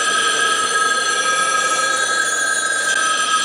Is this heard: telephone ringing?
yes